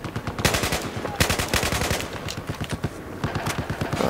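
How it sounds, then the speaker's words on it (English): Automatic gunfire in Battlefield 4 multiplayer rattles in rapid, continuous bursts across the whole stretch, loud and close, with short pauses between volleys. "we're back to automatic fire"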